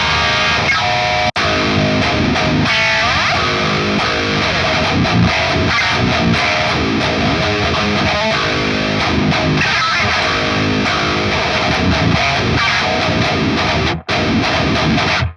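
Heavily distorted 7-string electric guitar through a blended cabinet tone, a thick, dense and continuous wall of chugging riffs played loud and close, with one brief cut near the end.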